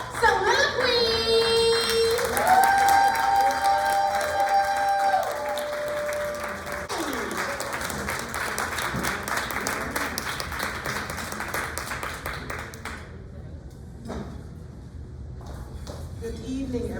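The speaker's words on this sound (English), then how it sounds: "So y'all start clapping right now for Soliloquy." Audience applause at an open mic poetry night, steady clapping under a sustained tone and voices for most of the stretch, then thinning out near the end.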